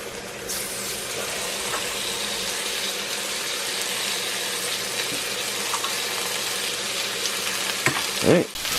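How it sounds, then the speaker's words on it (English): Water runs steadily from a kitchen tap with a constant hiss, close and loud, while cooking pasta with chicken strips in cast iron; a brief clatter comes near the end. "alright, I have the water going."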